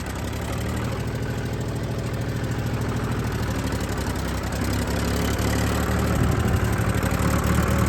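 A farm vehicle's engine runs steadily in low gear at a hay field, a loud, close rumbling idle with rhythmic knocking pulses that grows slightly heavier toward the end, with no talking.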